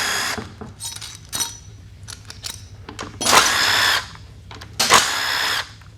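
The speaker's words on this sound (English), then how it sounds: "You remove the 10 millimeter bolts." A power tool backs out 10 mm bolts on a 4L60E automatic transmission in several short whirring bursts, each ending with a light metallic click. The sounds are close and loud, with no talk.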